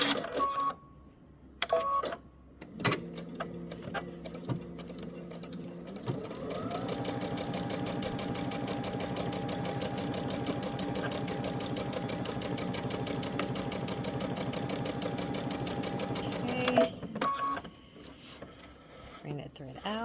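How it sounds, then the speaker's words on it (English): A home sewing machine stitches darts on a New Look dress pattern, running in a steady continuous whir for about ten seconds after a few short starts and stops near the beginning. "I'm gonna let our needle down, secure our foot, and stitch."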